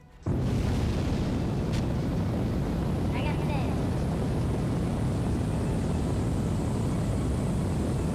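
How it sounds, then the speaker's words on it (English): Rocket liftoff in the Kerbal Space Program video game: a sudden loud, broadband roar kicks in after a quiet start and holds steady and close, with a faint tone passing briefly partway through. "And we have liftoff."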